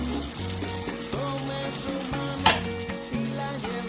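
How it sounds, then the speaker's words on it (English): Chuck roast sizzles in a pan while being stirred. A crackling sizzle runs under a steady tonal background like music, with a sharp scrape of the stirring spoon near the middle. "Give it a nice good stir."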